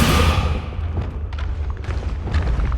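The Descendo slamming spell in Hogwarts Legacy lands with a heavy, booming thud followed by a low rumble and scattered debris clatter, loud and close, with no voices.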